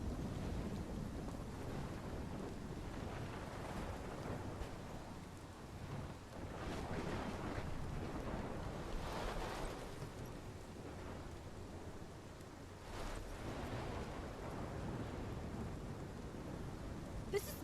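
A storm in the Life is Strange video game gives a continuous roar of wind and rough, surf-like rumbling, with gusts swelling and easing, and heavier bursts around the middle and near the end.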